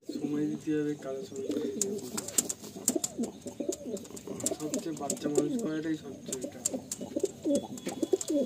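Kalasabuj pigeons at a loft in Garia, Kolkata give repeated throaty coos close by, mixed with short sharp wing flaps, while someone talks over them almost throughout.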